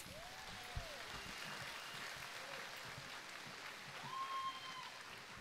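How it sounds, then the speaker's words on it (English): Graduation audience at an 8th grade ceremony at Hilo Intermediate applauding, a steady moderate wash of clapping from a large crowd in a hall, with a few faint voices mixed in. "Let's give them one more round of applause."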